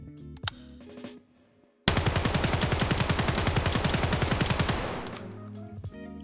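AK-74M rifle in a video game firing one long rapid automatic burst of evenly spaced loud shots lasting about three seconds, with a few sharp single clicks and sounds just before it.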